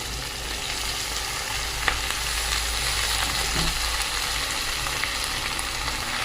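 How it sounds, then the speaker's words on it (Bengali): Onion greens, potato, brinjal and beans dropped into frying onions for a Bengali chorchori, giving a dense, continuous sizzling hiss with a low steady rumble underneath, close and even, with a couple of faint clicks. "পেঁয়াজ কালি, আলু, বেগুন, সিম সব তুলে দেবো, একসঙ্গে ঢেলে দেবো"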